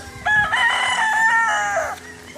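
A single rooster crows at a game farm, one loud, close cock-a-doodle-doo lasting under two seconds with a clear rising and falling tone.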